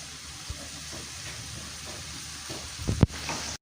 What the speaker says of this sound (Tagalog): Nag-boil ng ating coconut milk.